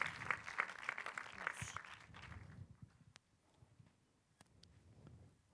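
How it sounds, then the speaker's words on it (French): At a short-film awards ceremony, an audience applauds the sponsors with faint, distant clapping that lasts about two seconds before dying away into a quiet room. "On peut les applaudir aussi"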